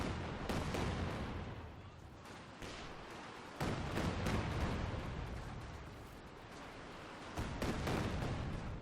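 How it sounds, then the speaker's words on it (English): A Katyusha rocket barrage in Company of Heroes 2 crashes down as a series of loud, rumbling detonations spaced a few seconds apart over a continuous roar of battle. "We do got a Katusha barrage coming in."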